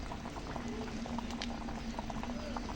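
Mutton curry (khasir mangsho vuna) simmering in a pot as its liquid cooks down, a steady low bubbling with a constant hum underneath and small pops scattered through.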